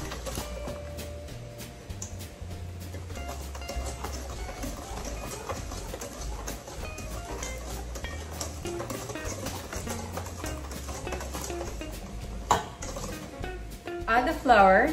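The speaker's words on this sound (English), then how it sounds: "Whisk until the mixture is light and creamy." Cookie dough mixture is whisked in a bowl, giving a steady stream of quick scraping and clinking strokes that runs throughout the clip, with occasional louder knocks near the end.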